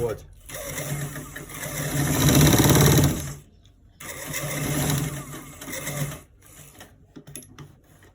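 Sewing machine stitching a trouser front pocket, running loud and close in two long steady bursts with a short stop between, followed by lighter intermittent mechanical clicks; a person talks over it.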